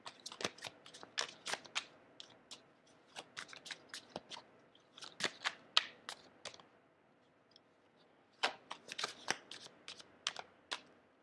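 A deck of cards is shuffled up close in quiet, a series of crisp riffling flutters and slaps in uneven bursts with short pauses between.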